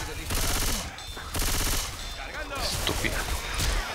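Gunfire rings out in Left 4 Dead 2, played in realism mode with a Resident Evil 6 mod, as sustained bursts of rapid automatic shots in two or three long volleys, loud and dense, with game effects mixed underneath.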